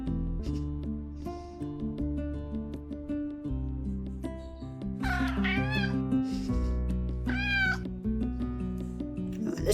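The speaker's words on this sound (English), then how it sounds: "How you doing, kitty?" A cat meows loudly twice in a garden, drawn-out wavering cries that rise and fall, heard over a sustained droning musical background.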